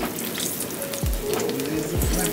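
Coated salmon fillets frying in a pan of hot grease, with a steady close sizzle and a couple of sharp bursts as pieces drop into the oil.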